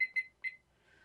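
A kitchen timer gives three short, high, clear beeps close by in a quiet kitchen, two in quick succession and then one more, before it falls silent.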